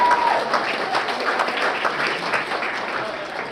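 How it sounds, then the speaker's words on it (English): A conference audience at an emergency care event in Queenstown claps for the entrants, a dense, steady burst of applause from a room full of people, loud and close throughout. "Big round of applause for all our entrants."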